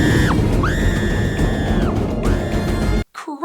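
A shrill, sustained animated scream from the film Antz rises and holds in long wavering cries over a dense, noisy roar of action, then cuts off abruptly into a brief clattering tail.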